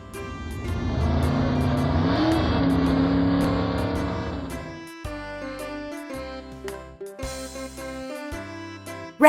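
A Lightning McQueen race car engine revs in a loud sustained roar, then drops into a series of short punchy rev bursts and blips with pauses between them.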